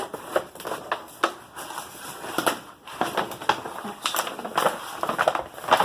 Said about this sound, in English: I'm just going to kind of open my bag like this, so I can cut straight up the side.